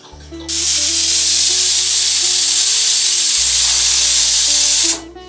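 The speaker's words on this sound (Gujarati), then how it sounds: "કઢીનો આ બીજો વઘાર ચાલુ છે બીજો તડકો લઈ રહ્યા છીએ" Loud steady sizzle of a spice tempering hitting hot oil for moong kadhi, bursting in suddenly and holding for several seconds before cutting off, with a low hum underneath.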